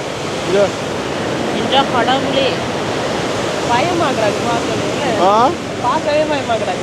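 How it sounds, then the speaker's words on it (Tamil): Steady rushing water roars continuously, loud and close, as a tank is opened at night and water flows out, while a voice speaks intermittently over it. "சத்தத்தை பார்த்தீங்களா தண்ணி வாயிற"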